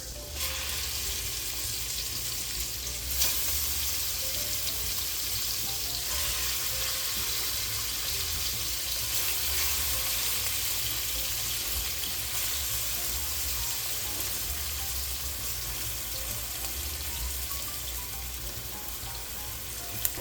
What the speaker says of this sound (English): I'm gonna let that go another 30 seconds and I'm dropping the pheasant in there.